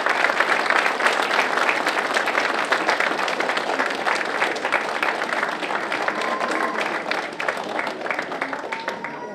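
A hall audience at a Czech Christmas carol evening breaks into loud, sustained, dense clapping that carries on evenly throughout, with faint voices mixed in underneath.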